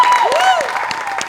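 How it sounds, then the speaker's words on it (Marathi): A studio audience at the Marathi comedy show Maharashtrachi Hasyajatra breaks into loud, sustained clapping, mixed with sweeping musical tones and crowd noise. "तरी सुद्धा या कार्यक्रमासाठी एकदा जोरदार टाळ्या"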